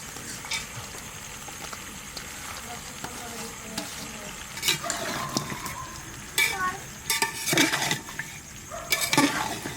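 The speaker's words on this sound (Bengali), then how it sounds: "মাটনটা 5 মিনিট তেলের সঙ্গে ভাজলাম, এবার পেঁয়াজটা দেবো।" Mutton frying in oil sizzles steadily as onions are tipped into the pan, with scattered clattering stirs and bursts of crackling growing louder toward the end, while a voice talks over the cooking.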